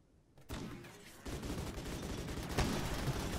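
Gunfire in the Rimworld video game breaks into dense rattling bursts after a quiet start, then continues as a sustained fusillade with a sharper report near the end.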